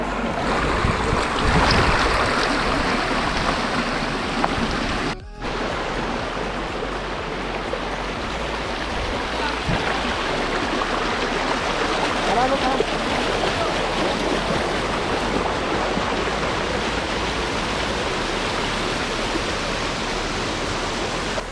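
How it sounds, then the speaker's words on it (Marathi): Continuous rushing and splashing of a small waterfall beside a trail in Tamhini, steady and fairly close, with one brief dip partway through. "आपण एक छोटा वॉटरफॉल लागलेला आहे"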